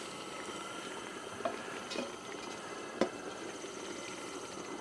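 A pot of Charleston-style low country boil with garlic and crab oil bubbles at a steady rolling boil, a soft constant hiss and gurgle broken by a few faint clinks.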